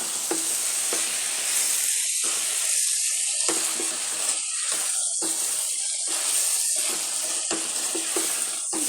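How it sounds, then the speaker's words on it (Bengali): Bitter gourd and potatoes fry in a pan with a steady, close sizzle, broken by repeated scrapes and clacks of a spatula stirring at uneven intervals. "আলু দিয়ে করলা ভাজি করতেছি।"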